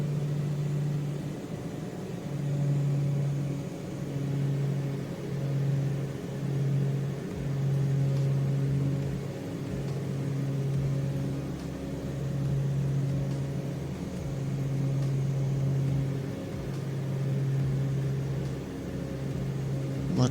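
A light aircraft engine drones at reduced RPM in flight, a steady mid-low hum with a faintly pulsing, throbbing beat running evenly throughout, with no talking.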